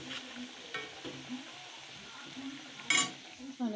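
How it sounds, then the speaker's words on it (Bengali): Bengali rice-flour dumplings, puli pitha, sizzle steadily as they fry in a pan, with soft stirring and an occasional sharp clink of a utensil against the pan near the end. "আর এই যে ভাজা পুলিগুলো ভাজছি।"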